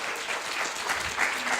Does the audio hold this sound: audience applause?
yes